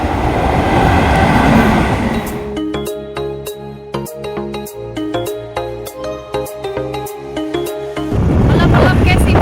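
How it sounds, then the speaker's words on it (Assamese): A train rolls through a rail crossing gate in light drizzle, wheels clattering in a rhythmic clickety-clack close by, with rain or road noise before and after the passing. "আহিছেই ট্ৰেইন।"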